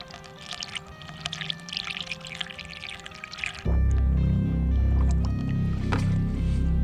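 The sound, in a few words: coolant being poured to fill a radiator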